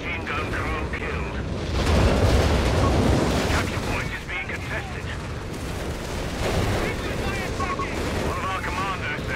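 Artillery shells a headquarters in Company of Heroes 3, a dense, rumbling barrage of blasts and crackling gunfire rolling on continuously, with faint voices over the din.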